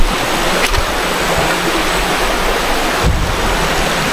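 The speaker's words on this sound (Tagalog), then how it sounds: "Diba napakalakas ng tubig dito sa area?" A strong stream rushes in a steady, loud roar of churning water that fills the whole moment, with no talking.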